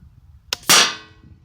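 A .22 LR rifle fired in a garden: a short sharp crack followed a split second later by a louder ringing smack as the round hits a metal target, decaying over half a second, against quiet background.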